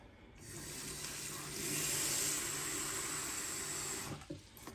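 Tap water runs steadily into a kitchen sink while chicken massalé is being cooked. The flow swells slightly midway, then cuts off near the end, close and fairly loud.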